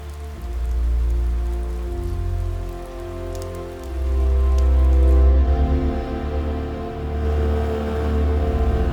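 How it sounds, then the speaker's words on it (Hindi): Rain falls steadily at a hill-station lake in Pachmarhi, a dense, close patter on surfaces with heavy low rumbling swells rising and easing throughout, and no voices. "तो भाई मुझे तो अभी नहीं करना क्योंकि बारिश होने लगी है"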